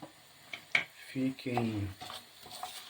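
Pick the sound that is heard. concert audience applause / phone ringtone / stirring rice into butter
stirring rice into butter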